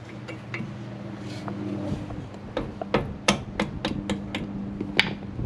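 Loosening the screw that attaches the brake hose to the brake caliper on a 2011 Toyota Sienna, heard as a series of sharp metallic clicks and taps of a tool, close by, over a low steady hum.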